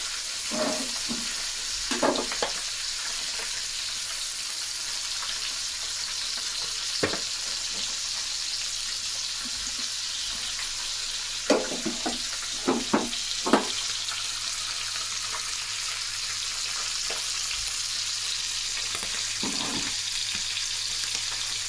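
Fish fries in a pan with a constant, hissing sizzle, broken now and then by short clinks and scraping stirs.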